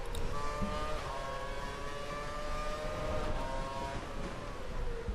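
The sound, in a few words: F1 car engines from a racing video game, Hungaroring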